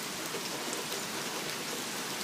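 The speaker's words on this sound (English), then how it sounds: "Rain's picking up heavier and heavier and heavier." Heavy rain pours steadily through a morning thunderstorm, a dense, even hiss of drops striking surfaces with no break across the moment and no voices.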